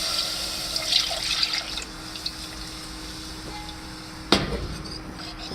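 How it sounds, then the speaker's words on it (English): Milk is poured into a pan of vegetarian gravy, giving a soft liquid trickle, followed by a sharp knock and quieter splashing. "Maybe I just go ahead and add the milk now."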